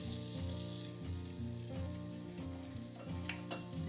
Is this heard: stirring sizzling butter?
yes